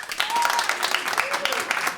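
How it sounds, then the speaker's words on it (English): A live theater audience of Brooklyn attendees applauds at a radio show taping, steady moderate clapping heard from a distance, with a voice speaking over it. "Applaud if you're from Brooklyn"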